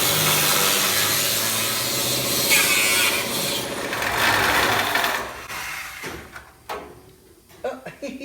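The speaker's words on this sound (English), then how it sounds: "that's why Marty is cutting out all around where those spot welds were" Spot welds are cut out around a car roof during a glass roof swap with a loud, buzzing, grinding power-tool drone that stops after about six seconds, leaving scattered clanks and handling noises. People talk in the background.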